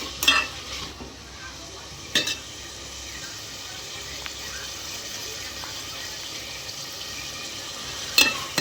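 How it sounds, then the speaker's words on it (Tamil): Onions and tomatoes sautéing in a pan for a drumstick and fenugreek curry, a low steady sizzle with a few sharp stirring scrapes of the spoon against the pan, close by, with no talking. "வெங்காயம் கொஞ்சம் நல்லா வதங்கிருச்சு. அடுத்து தக்காளி சேர்த்துக்குவோம்."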